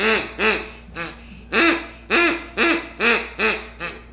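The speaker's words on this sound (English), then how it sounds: "There's another duck call." Duck call quacking beside a small coastal river, a run of about nine loud, nasal quacks in an uneven rhythm, close and clear with no voices over them.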